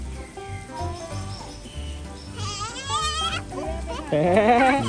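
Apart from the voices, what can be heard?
goat bleating at a mini zoo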